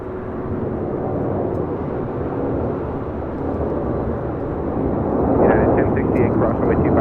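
A Latam Cargo airliner in special livery landing at LAX, its engine roar and rushing noise loud and steady throughout and swelling near the end, with a voice heard faintly over it.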